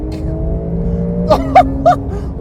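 A BMW E92 M3 in Sport Plus mode accelerates hard, its engine droning steadily and loud from inside the car, with a few sharp higher bursts near the end.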